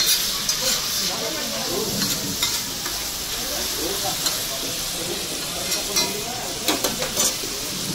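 Oysters for kalwa fry sizzle loudly in a hot pan at a roadside dhaba, a constant frying hiss punctuated by clinks and scrapes of a spatula, with faint voices in the background.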